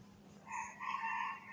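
A Minecraft chicken gives two short, faint clucking calls in quick succession within a quiet game scene.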